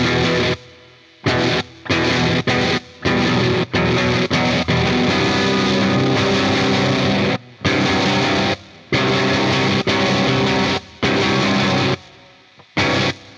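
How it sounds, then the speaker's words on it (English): Distorted guitar washed in heavy reverb plays in loud bursts that stop abruptly into silence again and again, a gated post-metal tone from a pedalboard rig. "you get the full effect of that reverb for that instant moment that you're playing, and then it cuts off really hard"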